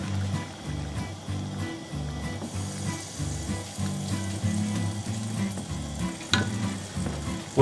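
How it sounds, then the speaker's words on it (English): Risotto being stirred in a hot pan sizzles steadily, with rhythmic low scraping and sloshing strokes of the spoon repeating throughout, near and moderately loud, plus a sharp clink near the end. "Mix well."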